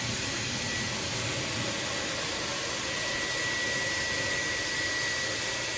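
A Dyson Airwrap i.d. hair styler blows air in a steady, uniform whooshing hiss with a faint high whine, unchanging and continuous from start to finish with no voices.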